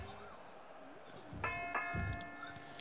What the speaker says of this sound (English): Referee, ring that bell, Simba.